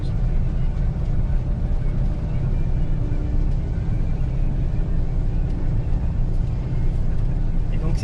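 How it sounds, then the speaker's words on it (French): Steady, loud mechanical drone of a Grimme Varitron 470 potato harvester, its belts driven by hydraulic motors, continuous low rumble throughout with no breaks, close to the machine. "Tout, les tapis, tout est entraîné par des moteurs hydrauliques"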